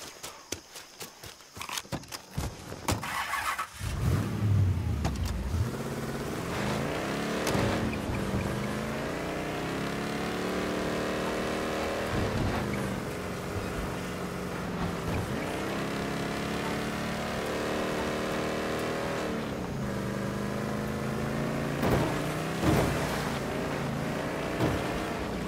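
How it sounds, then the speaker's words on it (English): A car engine in the video game Mafia III drives steadily for most of the clip, its pitch rising and falling as it revs and shifts. A few scattered clicks come before it, and no one speaks. "Take one of their vehicles."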